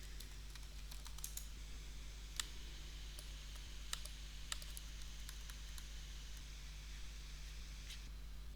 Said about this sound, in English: Type your password